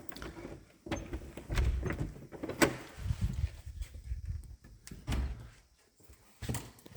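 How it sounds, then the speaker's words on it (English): Old, sticking wooden door in a historic house being forced open into a butler's pantry, with several dull knocks, scrapes and a sharp bang as it jams and gives, close by and uneven in rhythm. "As with old doors, they stick."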